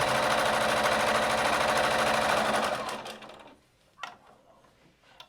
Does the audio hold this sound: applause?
no